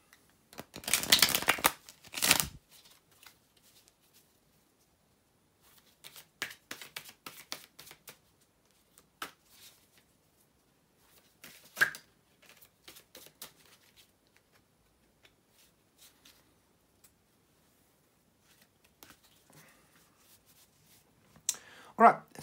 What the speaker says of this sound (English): bear with me just a second, guys, to shuffle the tarot cards